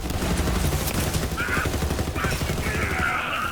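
A Faisor assault rifle firing in the video game Borderlands 3, a loud, unbroken stream of rapid shots that holds steady throughout, with a few brief whines over it and a voice faintly underneath.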